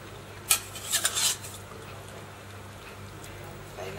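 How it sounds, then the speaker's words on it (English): Potatoes drop into a curry pot cooking over charcoal, giving a few quick clattering knocks of pieces hitting metal and liquid, followed by quiet simmering background with a faint clink at the end. "we're going to add potatoes now"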